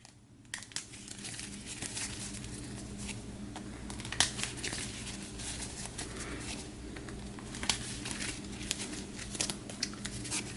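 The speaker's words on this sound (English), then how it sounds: "I'll shuffle these all back into the second deck." A deck of cards being shuffled during a tabletop boxing tournament game, a steady, soft crinkling and riffling patter with scattered sharp clicks, close and alone without voices.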